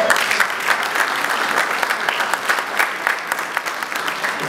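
Audience applause at the Afrikfest 2018 festival: dense, steady clapping from a large crowd that fills the whole stretch at even loudness, with no speech over it.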